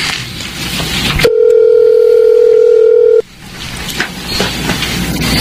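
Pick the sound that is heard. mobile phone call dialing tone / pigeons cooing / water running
mobile phone call dialing tone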